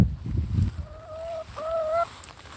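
A pet chicken gives a pair of short, tonal clucks close to the microphone, after a brief burst of rustling and handling noise.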